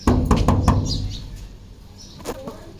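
Knocking on a door, a quick series of four or five firm, close raps at the start, then quiet room sound with a faint later tap.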